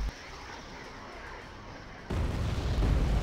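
A low rumbling explosion from bombs dropped by a fighter jet on the north side of a building in a strategy video game, bursting loud and sudden after a quiet stretch and rolling on to the end.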